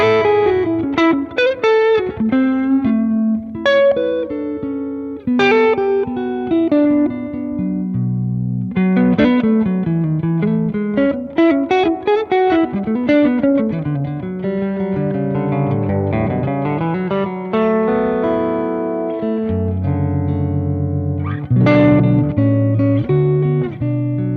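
A Gibson ES-335 electric guitar plays through a REVV D20 amp with only a Skysurfer reverb pedal, melodic single notes and chords ringing out loud and sustained with a light reverb tail.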